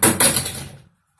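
A TV remote control hurled against an unbreakable television screen glass in a shop, giving two quick hard plastic impacts close together, followed by a short rattling decay and then silence.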